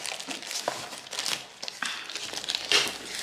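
Plastic packaging of a diamond painting kit is torn open by hand, producing a continuous close crinkling and rustling with sharper crackles and small rips scattered throughout.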